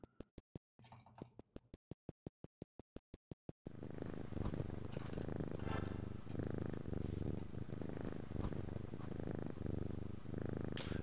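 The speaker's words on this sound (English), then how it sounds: "Just listen to that purr." A cat purrs steadily in the Knytt Stories video game, a loud continuous rumbling purr following a series of sharp evenly spaced ticks at the start.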